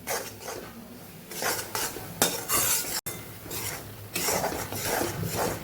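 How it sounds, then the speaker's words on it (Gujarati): Flour roasting slowly in ghee for mohanthal is stirred in a pan, with a steady scraping and rasping of the utensil against the pan in waves over a soft sizzle. "હવે એકદમ ધીમે ધીમે આપણે શેકવાનો છે"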